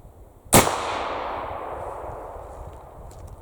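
A single loud rifle shot from a .58 caliber Needham conversion rifle firing a 60 caliber round ball, outdoors, a sharp crack followed by a long rolling echo that slowly fades over a few seconds.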